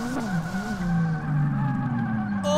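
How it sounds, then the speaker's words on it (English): A drift car in a driving game slides and skids, its engine holding a steady droning tone that rises and wavers while the tires scrub, loud and continuous throughout. "Oh, the car slides so much."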